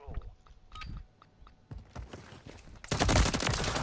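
Scattered gunshots in a multiplayer shooter game pop close and crisp, then build into a dense barrage of rapid fire in the final second.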